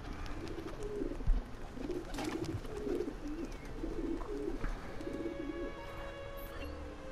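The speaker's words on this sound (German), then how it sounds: "die Tauben." Pigeons cooing in Assassin's Creed, repeated soft low coos in a loose rhythm over a faint ambient background, fairly quiet, with no talking over them.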